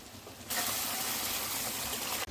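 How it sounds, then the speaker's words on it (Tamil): Tamarind gravy is poured into a pan of sautéed prawns and vegetables, giving a steady, close splashing gush that runs for about two seconds before cutting off abruptly. "இப்போ கரைச்சி வச்சுக்கிற குழம்பு ஊற்றிக்கலாம்."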